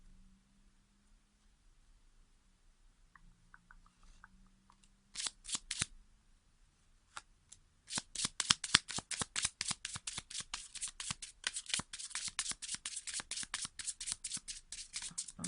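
Tarot-style cards shuffled for a love reading, a few soft riffles at first, then a long run of rapid, crisp card flicks close by, with no talking over them.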